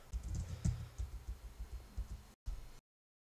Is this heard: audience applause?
no